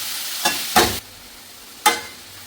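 Beetroot thoran, a Kerala stir-fry with curry leaves and dried red chillies, is stirred in a pan with a few short, close scraping strokes over a soft background sizzle.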